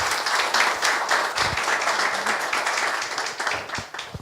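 Moderately quiet applause from a seated audience at a lecture event, even continuous clapping with a few sharper individual claps standing out.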